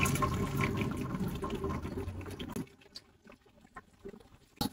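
Finely chopped onions are dropped into hot oil in a pan for a liver karahi, setting off a loud, dense sizzle and crackle that drops abruptly halfway through to faint scattered pops and spits.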